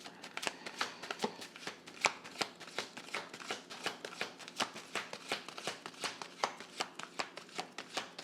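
Tarot cards are shuffled by hand in a steady run of crisp riffling slaps and flicks repeating about twice a second, close and quiet with no talking.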